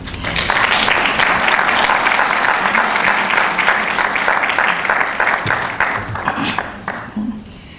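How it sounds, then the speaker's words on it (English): An audience gives a round of applause to welcome a speaker at an academic lecture, loud sustained clapping from a large crowd for about seven seconds before fading away. "Please give a round of applause for Dr."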